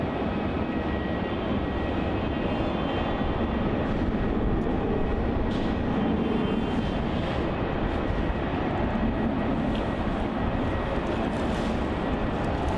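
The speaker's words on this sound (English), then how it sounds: "departing off runway 27, we have Virgin Australia flight VA 1316 off to Hobart, Tasmania" A Virgin Australia passenger jet takes off from runway 27 at Melbourne Airport, bound for Hobart, heard as a continuous loud broadband engine roar holding steady throughout, with no talk over it.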